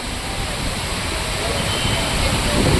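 Rainwater floods and flows along a road during heavy rain and strong wind, making a loud, unbroken, broadband rushing roar that swells slightly over a few seconds.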